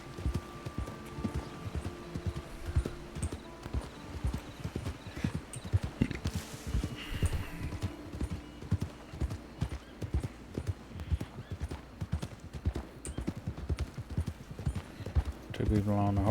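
Hooves of horses in a Red Dead roleplay game clip-clopping at a steady walking rhythm throughout, close and fairly loud. Occasional snorts can be heard, and there is faint background chatter.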